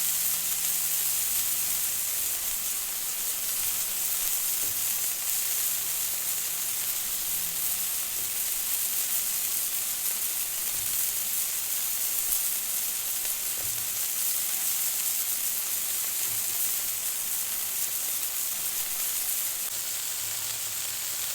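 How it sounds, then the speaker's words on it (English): Burgers and pretzel buns sizzle steadily on a Blackstone flat-top griddle for a beer cheese pretzel bacon burger, a constant loud frying hiss with no talking. "while those burgers are going, I've got this side over here at a low heat. I'm going to take my pretzel buns. I'm going to start toasting them up as well."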